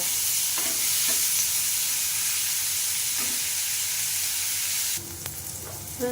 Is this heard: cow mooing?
no